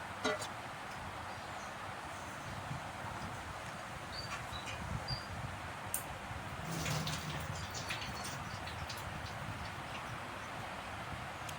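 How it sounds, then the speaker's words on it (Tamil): Horse gram is washed in water in a pot during village cooking, giving a steady, faint wash of sloshing and swirling water with occasional small splashes and clinks, low and continuous throughout. "இப்போ கொள்ளையெல்லாம் நல்லா வாஷ் பண்ணி எடுத்துக்கலாம்"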